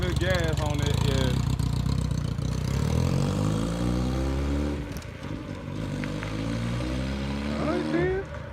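A motorbike engine given throttle, climbing in pitch as it revs up, then easing back to a rougher idle, close by, with voices talking at the start and again near the end.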